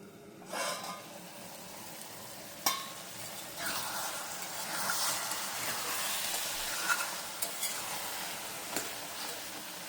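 Ridge gourd and prawn curry sizzles and crackles steadily in a pan, with occasional scraping stirs and a few sharp knocks of a spoon against the pan, all close up and with no talking.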